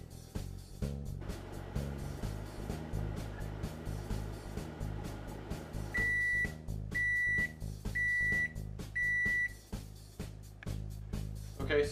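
A microwave oven hums steadily while cooking a bowl of ramen, the drone running throughout, with a series of four evenly spaced beeps sounding near the end.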